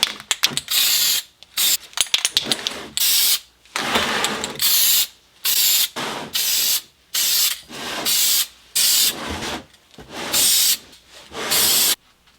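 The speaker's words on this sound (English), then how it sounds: "So we got a new can here and we're going to give it some more spray." An aerosol can of filter oil sprays onto a Yamaha YZ250 motorcycle air filter in repeated short hissing bursts, each about half a second, close and loud with brief silent gaps between.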